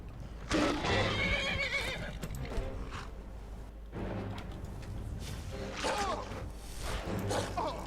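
Skyrim horse whinnies ring out twice over a steady rumble of hoofbeats and movement on a rocky road, loud and close, with brief bursts of clattering in between.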